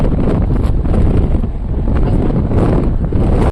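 Strong wind roars and buffets outdoors under harsh sun, a loud continuous rumble pressing on the microphone with no pauses.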